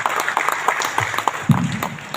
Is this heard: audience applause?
yes